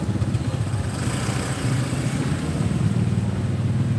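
Busy road traffic in Da Nang, Vietnam, with scooter and motorbike engines humming and buzzing past at a steady, moderate level, no talking.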